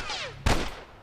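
A single loud gunshot in The Last of Us video game, a sharp broadband crack at mid-clip that rings out and decays over a faint rumbling game ambience.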